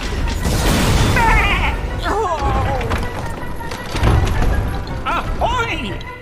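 Deep cannon booms from the Puppeteer video game land twice, a few seconds apart, under loud, animated character voices and busy game effects.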